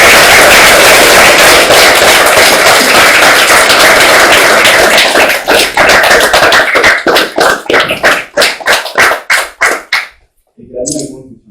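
Applause at an official signing ceremony in Kinshasa, a dense wash of clapping that rings loudly for several seconds and then thins into scattered, separate claps before dying away, with a brief voice at the end.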